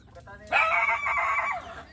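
A chicken gives a loud, close crow-like squawk lasting about a second, with a few softer clucks before it.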